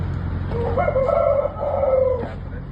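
A rooster at a poultry breeding unit crows once, a drawn-out cock-a-doodle-doo lasting over a second, fairly close against a low background hum.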